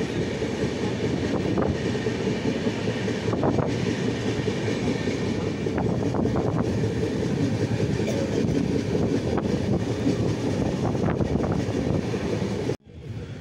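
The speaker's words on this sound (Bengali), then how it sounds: "জীবনে এই প্রথমবার জেনারেল বগিতে করে এত দূরপাল্লার ট্রেনে যাচ্ছি" A long-distance passenger train heard from inside a crowded general coach, a loud, steady rumble with rhythmic clatter and occasional clicks, cutting off abruptly near the end.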